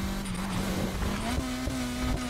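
Car engine droning steadily in the racing game Need for Speed Heat, its pitch rising slightly as it accelerates, with faint tire noise and occasional thumps, loud and continuous with no talk.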